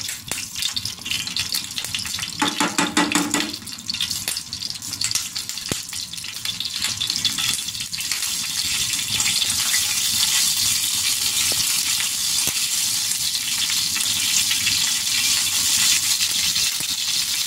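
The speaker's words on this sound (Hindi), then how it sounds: "अब वो जो हम जीरा डालेंगे इसके अंदर, इसको फ्राई करेंगे अच्छी तरह से।" Cumin seeds sizzle in hot oil for a tadka, a loud, steady, crackling fry that fills the whole stretch and grows slightly fuller toward the end, with a brief metallic clink early on.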